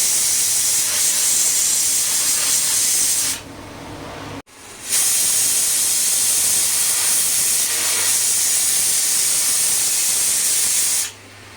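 A pressure cooker boiling potatoes on a gas stove lets out loud, sustained steam whistles: a long hissing blast, a brief break, then another long hiss before it stops.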